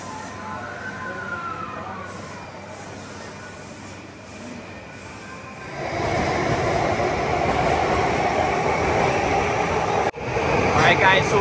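A train rumbles and hisses nearby at Akihabara, Tokyo, growing louder partway through into a steady roar, with a brief dropout near the end and faint voices in the background.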